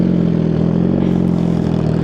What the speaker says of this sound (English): This is how it sounds right now with this exhaust.